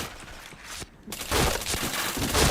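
Rapid gunfire from a shooter video game, bursts of shots crackling through a busy, loud mix with a brief quiet gap near the start before the firing resumes densely.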